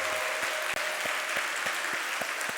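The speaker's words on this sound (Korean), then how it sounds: "우리와 같은 박수로 축하합니다." A church congregation applauds during a Parents' Sunday service, giving brief, dense, steady clapping with a few distinct louder claps standing out.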